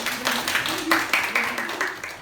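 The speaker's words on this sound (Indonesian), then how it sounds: "Kita beri tepuk tangan dulu kepada kelompok 1." Classroom students in a science lesson clap for a group that has just presented, a series of fairly quiet, uneven bursts of hand claps with a faint murmur of voices underneath.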